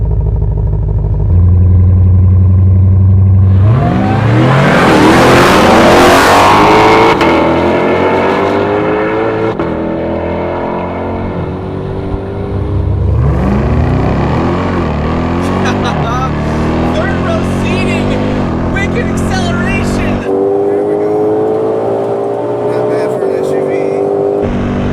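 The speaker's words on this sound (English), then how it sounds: "the stock Hellcat Durango beats a stock C8 Corvette" A Hellcat Durango SUV and a C8 Corvette launch hard side by side in a race, engines roaring up through the gears with loud, close revving, a brief shift break, then another surge of acceleration that holds strong to the end.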